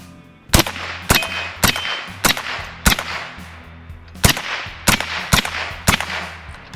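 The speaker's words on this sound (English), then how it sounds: "I'm gonna shoot at the steel down there, and we'll see how many we can get on target" A rifle fitted with a UUQ 3-9x40 compact scope fires at steel targets: about ten sharp, loud shots at uneven intervals, each followed by a brief metallic ring from the struck steel.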